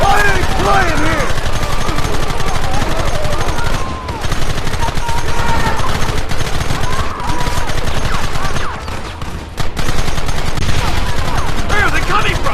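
Sustained gunfire from Red Dead Redemption: dense, loud volleys of rapid rifle and pistol shots cracking almost continuously, with brief lulls near four and nine seconds, under shouted voices.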